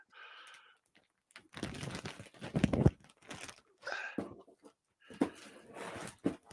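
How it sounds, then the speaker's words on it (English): A snack bag of cheese popcorn crinkles and crunches in several separate bursts between short silences, fairly close and with no speech. "hearing the bag crunch like that's making me hungry"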